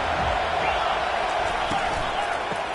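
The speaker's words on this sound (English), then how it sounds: "listen to the roar of this crowd" A football stadium crowd roars in a dense, continuous wash of noise that stays steady and loud throughout, with a few faint thumps and no clear voices above it.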